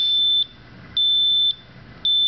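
Regular high electronic beeping from a microprocessor-controlled pedestrian crossing signal, a steady tone switching on and off about every half second, loud and close with faint background hum.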